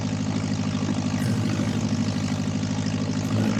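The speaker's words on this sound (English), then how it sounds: "run up the engine just to make sure all the bits are working okay" A light aircraft's propeller engine runs up at the top of a runway, a loud, steady droning hum with pulsing low tones, no voices.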